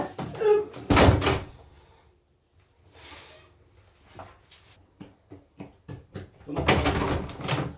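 A door is handled and shut indoors: a loud bang near the start, a scraping, rustling movement, a run of short knocks and clicks, then a heavy slam-like burst at the end, close by, with bits of voice mixed in.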